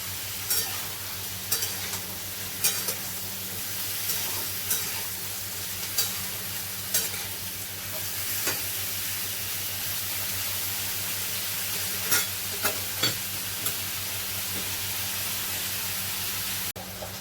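Potatoes and ridge gourd fry in a pan with a steady broadband sizzle, broken by occasional sharp clinks and scrapes of stirring, close and continuous over a low steady hum, with no voices.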